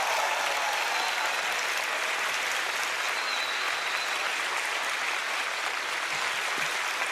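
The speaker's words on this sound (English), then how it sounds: "Round of applause for Teller as he comes" A television magic show audience claps and cheers continuously for about seven seconds, a dense, even wash of applause with no speech over it.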